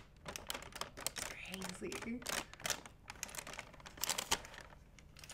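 Crinkly plastic art supplies bag handled in soft bursts of sharp rustling and crackling, close and fairly quiet, with a soft-spoken voice talking over it.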